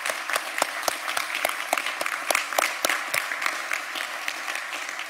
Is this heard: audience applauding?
yes